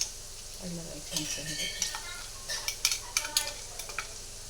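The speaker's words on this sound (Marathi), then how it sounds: "आता तेल तापलंय त्यात हे शेंगदाण्याचा कूट आणि मिरच्या बारीक केलेलं ना ते टाकायचं" Ground peanut powder and finely chopped chillies sizzle in hot oil for sabudana khichdi, the frying hiss broken by a series of spoon-against-pan scrapes and clinks that grow busier toward the end.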